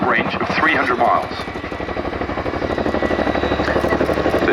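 A helicopter hovers at the Cosford airshow with an underslung load, its loud rotor chop pulsing steadily while an announcer speaks over it.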